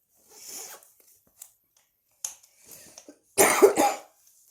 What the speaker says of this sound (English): there goes my wheezy cough.